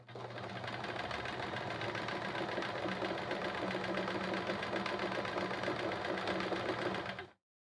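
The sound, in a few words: sewing machine noise from spool bouncing during quilting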